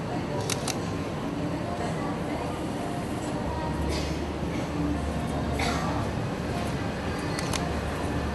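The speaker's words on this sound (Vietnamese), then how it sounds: "chúng ta hãy thử nghe xem cái tiếng màn chập của hai chiếc Sony Alpha A7 và A7R" Shutters of Sony Alpha A7 and A7R cameras fire at 1/400 second, a handful of sharp, separated clicks spaced a few seconds apart over a steady hiss of room noise.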